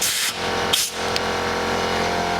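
Steady, loud broadband hiss and whir of a pneumatic drill press running continuously, with two brief dips where the tool eases off.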